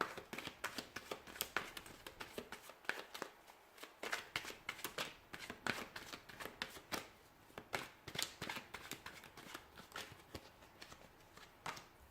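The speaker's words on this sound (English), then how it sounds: "we'll go ahead and give the cards a shuffle here" Tarot cards being shuffled by hand in a continuous run of quick, crisp riffling and slapping bursts, close and fairly quiet.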